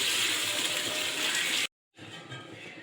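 Water pours steadily into a pot of rice being cooked for pulao, a full broadband gush that stops abruptly, then resumes after a short silence and continues a bit more faintly.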